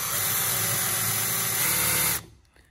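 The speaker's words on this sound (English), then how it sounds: "I'm just going to put the countersink bit into the hole that already exists." A power drill fitted with a countersink bit whirs steadily into an existing hole in wood for a cup holder, close and continuous for about two seconds before stopping abruptly.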